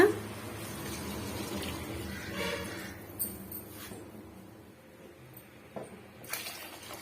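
Water pours and splashes into a pot for a few seconds, fairly faint, followed by a couple of light clinks.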